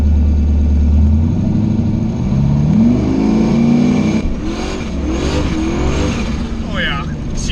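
The Chevstang's engine is held on a TCI transbrake in first gear, revving loud and close with a rising, wavering pitch, then launches as the tone shifts and builds, while people talk nearby.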